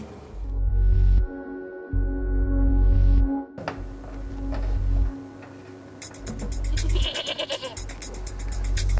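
A sick goat with bronchopneumonia at a veterinary clinic gives loud, close, drawn-out bleats, several in a row with short pauses, with a faint ticking behind.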